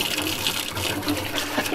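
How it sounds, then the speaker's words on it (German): Cold water runs steadily from a newly installed tap on a construction site, filling a container with a continuous close rushing splash and no voices. "Juhu, Wasser! Echtes Wasser auf der Baustelle."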